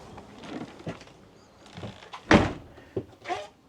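Habitation door of a 2023 Swift Voyager 540 caravan swinging shut with one loud thud near the middle, amid lighter knocks and handling clatter before and after.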